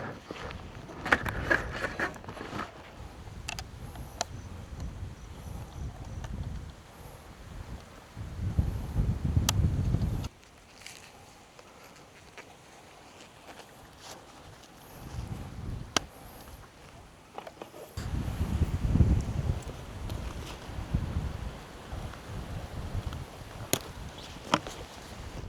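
Wind blowing at an outdoor motocamping spot, gusting in rough, rumbling waves against the microphone with calmer gaps between, along with scattered clicks and handling sounds and no clear speech.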